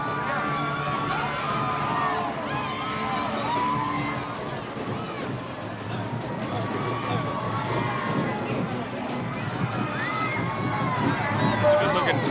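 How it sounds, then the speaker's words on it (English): A lively Mardi Gras parade crowd heard from a rooftop above, a steady hubbub of shouting and cheering voices with whistles and scattered calls throughout. "that crowd's getting lively down there"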